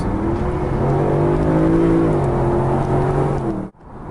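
A Mercedes SLS Roadster sports car engine revs loudly and steadily with rising and falling pitch through downshifts, then cuts off abruptly near the end.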